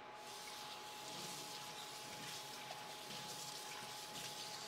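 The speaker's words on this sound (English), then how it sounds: "you have to empty the glass so I can pour some whiskey" Whiskey pours steadily into a glass with a continuous liquid splashing and gurgling, close and alone without any voices.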